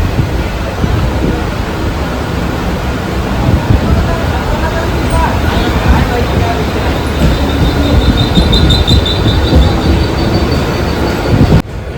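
A Mumbai local train rolls along, a loud continuous rumble of wheels and carriage rattle with occasional high squeals, heard from on board.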